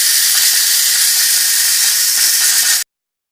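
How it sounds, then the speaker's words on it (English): Steam hisses loudly and steadily as a pressure pot of cooking meat for Nigerian egusi and ogbono soup is opened, a dense, unbroken rush that cuts off abruptly near the end. "I'm going to open the pressure pot and see how well the meat is cooked"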